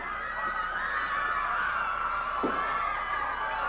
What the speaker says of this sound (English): The crowd becoming very alive,